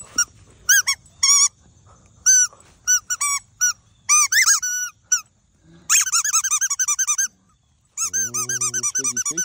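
A Boston Terrier plays with a squeaky toy football, squeezing out bursts of sharp, high squeaks in uneven runs, followed by a longer rapid series of squeaks and a low honking squeal near the end. No one speaks.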